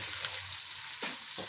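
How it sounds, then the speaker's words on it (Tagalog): Tomato scrambled with egg whites sautés in a pan, a soft steady sizzle with a couple of quick stirring scrapes, close but fairly quiet. "Scramble natin sa tomato."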